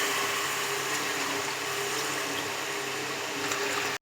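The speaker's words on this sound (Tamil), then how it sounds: "வேக வச்சு தண்ணி தான் நான் ஊற்றுறேன்." Water from boiling chickpeas pours into a cooking pot, a continuous rushing, splashing stream that holds steady, then cuts off abruptly at the end.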